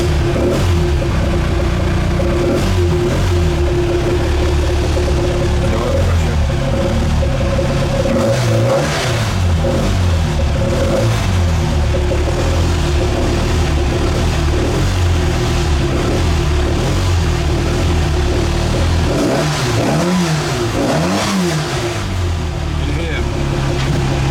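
A classic Mini track car with a sheared crankshaft pulley key runs loud and close, its engine droning steadily and rising through repeated revs without a break.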